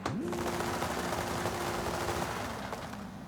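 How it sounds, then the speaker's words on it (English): Rapid, crackling exhaust pops rattle continuously over a steady engine drone from a 1500 hp Lamborghini SVJ in Forza Horizon 5 launching in a tunnel, dense and loud, fading a little toward the end. "You're gonna hear a lot of the pops and bangs throughout this video"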